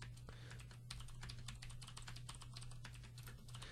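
Rapid keystrokes clatter on a computer keyboard as JavaScript code is typed, a dense, steady run of clicks over a low background hum, with no voices.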